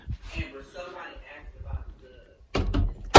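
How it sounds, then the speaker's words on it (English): Bedroom door being shut, a heavy thud and latch near the end after quiet speech and soft movement sounds. "Close the door."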